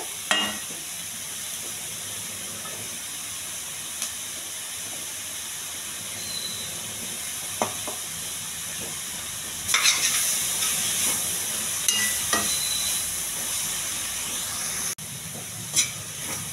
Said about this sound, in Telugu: ఆకుకూర బాగా ఎగించాలండి. మొత్తం కొంచెం అంతా పచ్చేంత వరకు.